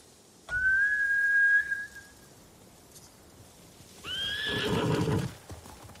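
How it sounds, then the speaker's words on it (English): A horse whinnies loudly, and after a short pause a second shrill neigh follows, with faint clattering hooves in the background, from the video game Ghost of Tsushima. "Bastards scared off the horses."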